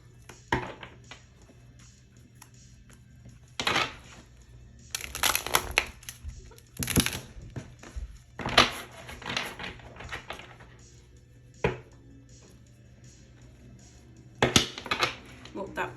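A tarot deck is shuffled by hand close to the microphone in several quick, crisp bursts of riffling and slapping cards, with short quiet gaps between them.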